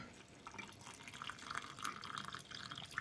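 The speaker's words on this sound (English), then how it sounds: "So I'm going to be pouring in water into there now." Water poured into gravy granules in a kitchen, a soft continuous trickle and splash heard close up and fairly quiet, with no talking.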